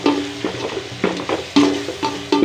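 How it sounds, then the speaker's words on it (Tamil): Tomatoes sautéed in ginger-garlic paste with salt, stirred in a pan: rhythmic scraping strokes about every half second, close and loud, over a low sizzle with no talking. "தக்காளி போட்டு நல்லா நம்ம கொஞ்சம் வதக்கிட்டு அதில் கொஞ்சம் உப்பு சேர்த்துக்கோங்க."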